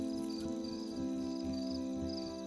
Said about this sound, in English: I really like the sound of crickets at night.